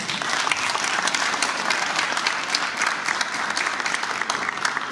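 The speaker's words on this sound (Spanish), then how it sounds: "La recibimos con aplausos." An audience at a Quechua grammar book presentation breaks into applause, a thick, even roar of many clapping hands that stays loud and unbroken throughout with no voices on top.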